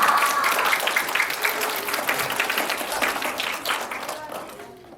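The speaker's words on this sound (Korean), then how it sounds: "큰 박수로 민우 리더님을 맞아주세요" An audience at a youth leadership camp concert applauds to welcome a speaker onstage, a dense, loud wash of clapping that holds steady for several seconds before tapering off near the end.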